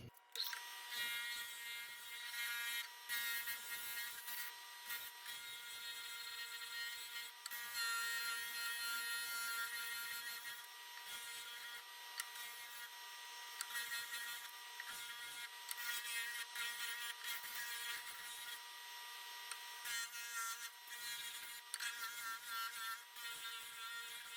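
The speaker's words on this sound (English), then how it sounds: "I want to sand this on the disc sander so it's symmetrical" A disc sander grinds down the wooden body of a shoe box derby car, a steady high, buzzing whine that runs continuously for the whole stretch with brief dips as the piece is pressed and eased off.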